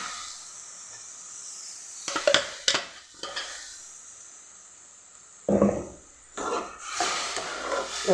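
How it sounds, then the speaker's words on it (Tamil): Ground tomato hits a hot pan with bursts of loud hissing sizzle, separated by quieter stretches, then a long steamy roar as more is poured and stirred. "இந்த தக்காளியை ஊற்றிக்கலாம்"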